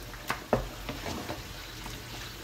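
Tomatoes drop into a pan of sautéed beef curry: two sharp splats, then a soft, steady sizzle of frying that fades to a low simmering crackle.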